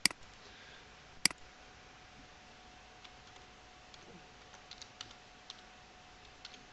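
Sparse, quiet keystrokes on a computer keyboard, a couple of sharper clicks near the start and then scattered soft taps over a faint background hum.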